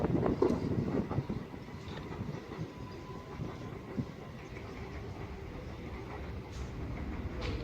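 Southeastern Class 375 electric unit 375-827 pulls away from Faversham station, a steady rumbling rail roar under gusty wind buffeting, fading gradually as it leaves.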